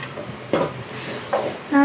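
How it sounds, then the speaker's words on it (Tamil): Curry is stirred in a pan as its water cooks off, with a light continuous sizzle and a few close spoon scrapes against the metal. "அது வரைக்கும் கலந்து விடுங்க"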